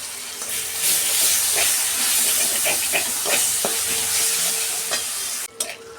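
Ginger-garlic paste sizzles loudly in hot oil with fried onions, a steady bright crackle with stirring scrapes throughout, briefly dropping away near the end.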